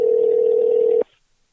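A telephone dial tone holds one steady, loud pitch for about a second and then cuts off abruptly, with no voices over it.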